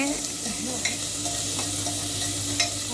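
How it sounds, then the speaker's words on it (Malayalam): Onions frying in a pan for vegetable pulao are stirred, a steady close sizzle running throughout with a few soft scrapes of the spoon, and no talk over it. "അതിന് ശേഷം അതൊന്ന് ഇളക്കണം നല്ലതായിട്ട്"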